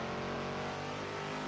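In Assetto Corsa at Sebring International Raceway, a race car engine accelerates down the back straight, a steady, dense droning roar that stays level and moderately quiet throughout with no voices.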